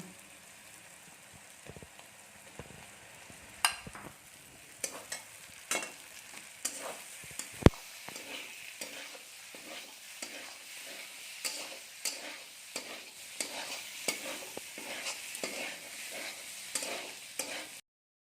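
Pasta is stirred and fried in a pan, giving a soft continuous sizzle with repeated scraping and clacking stirs at an uneven rhythm and a single sharp knock partway through.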